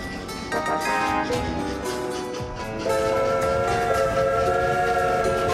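Steam-style train whistles from the game Train Valley toot in layered, sustained tones, overlapping with rolling rail noise; the whistles swell louder partway through and hold to the end.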